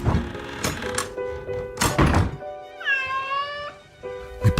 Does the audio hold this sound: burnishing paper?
no